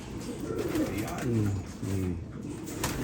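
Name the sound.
birds in a loft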